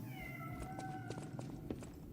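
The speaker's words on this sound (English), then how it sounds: "That's the cat that hangs out in the hotel that hisses at us all the time." A hotel cat in the video game Lies of P gives a drawn-out meow, faint and distant, over a low background hum with scattered footsteps and soft clatter.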